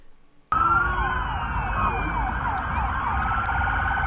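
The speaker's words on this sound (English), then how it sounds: "that's a lot of fucking police cars" Police car sirens wail together in a dense, continuous chorus that kicks in suddenly after a quiet moment, overlapping sweeping tones over a rumbling street background, steady and loud throughout.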